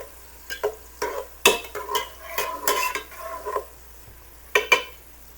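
Two fairly large onions go into a pan for beef mechado and get stirred, giving close, irregular scraping and clinking knocks of a utensil against the pan over a faint sizzle, with pauses between strokes.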